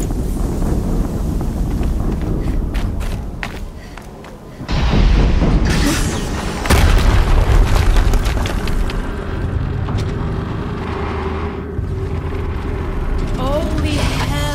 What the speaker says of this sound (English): Another explosion. I don't know, but it sounds really big.